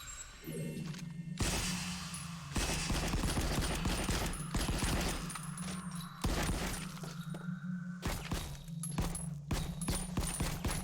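Rifle fire bursts repeatedly in the VR shooter Rifleman Elite, with several loud volleys of rapid shots separated by short gaps, alongside mechanical clicks and a steady low hum, and no speech.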